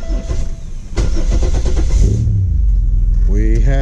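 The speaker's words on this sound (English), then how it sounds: "we have ignition" Car engine cranking and catching right after an AEM in-tank performance fuel pump install, a short starter churn followed by the engine firing and settling into a loud, close idle.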